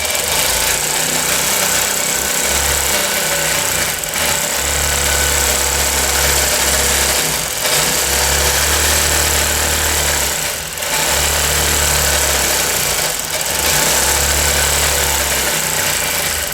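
A sewing machine stitches through a quilt in steady bursts of rapid mechanical chatter, loud and close, pausing briefly between runs as the needle travels to fill wave-shaped stitching spaces.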